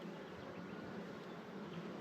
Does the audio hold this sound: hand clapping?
no